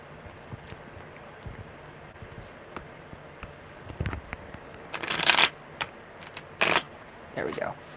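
Tarot cards are shuffled by hand in a few soft riffling bursts, with light taps and handling noises in between, the last bursts louder and closer.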